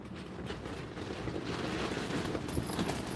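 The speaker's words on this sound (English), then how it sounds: "It is windy out here, that is for sure." Steady wind rushes and buffets the microphone throughout, a continuous roaring noise with no pauses.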